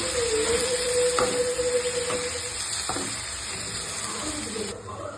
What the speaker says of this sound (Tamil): இப்போ ரெண்டுத்தையும் சேர்த்து நல்லா வதக்கிக்கலாம்.